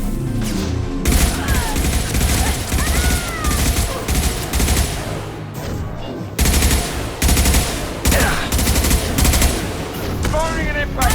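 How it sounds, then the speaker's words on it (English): Rapid automatic gunfire and heavy concussive shots ring out in a Mass Effect battle, with dense bursts of firing, impacts and squad voices calling out over the combat. "Firing concussive shot!"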